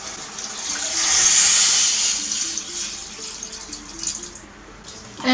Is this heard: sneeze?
no